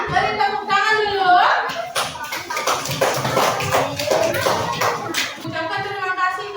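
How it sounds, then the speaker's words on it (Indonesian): A classroom of children claps together in a sustained burst of applause, close and fairly loud, after a teacher briefly speaks at the start. "Beri tepuk tangan dulu."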